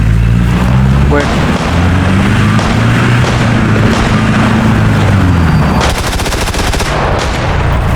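Gunfire and booms from a PUBG PC match ring out across a steady game soundscape, with a dense burst of rapid shots near the end; a voice talks over the action.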